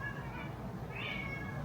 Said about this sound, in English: The cat's screaming.